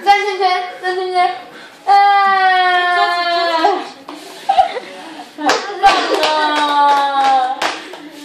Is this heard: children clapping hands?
yes